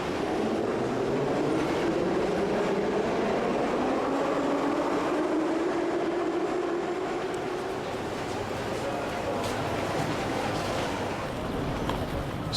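A Moscow metro train rumbles steadily through Komsomolskaya station, a loud continuous roar with a rising whine and rattling of carriages.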